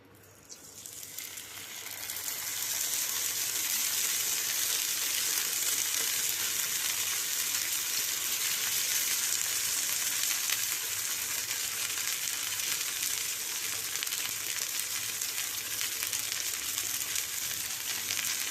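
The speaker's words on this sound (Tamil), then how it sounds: "அடுப்பில் தவா வச்சு எண்ணெய் லைட்டாக போட்டிருக்கேன் வந்து மீன் எடுத்து அப்படியே அதில் போட்டுடுவோம்" Vanjaram fish fries in a little oil on a tawa with a loud, steady sizzle that swells in over the first two seconds and holds evenly to the end.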